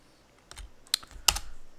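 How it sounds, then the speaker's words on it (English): Typing on a computer keyboard while entering shell commands: a few scattered key clicks, then a short quick burst of sharp taps, close and distinct against a quiet room. "So now I'm typing all this gobbledygook on the screen."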